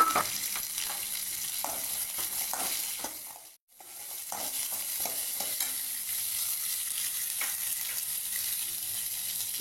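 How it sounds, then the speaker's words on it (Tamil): Small gooseberries, shallots and garlic sauté in hot oil with a soft, continuous sizzle, broken by a spatula's irregular scraping taps and one brief pause, close and quiet, with no talking. "நெல்லிக்காய் வதங்கணும். சின்ன வெங்காயம் பூண்டு நல்லா எண்ணெயிலே வதக்கிங்க"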